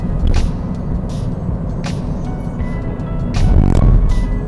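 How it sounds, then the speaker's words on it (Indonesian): A 2019 Toyota Yaris S TRD hatchback accelerates to 60 km/h, heard from inside the cabin as a steady engine and road drone that swells toward the end, with a few brief clicks and knocks over it. "Oke, kita gas coba ya, kecepatan 60."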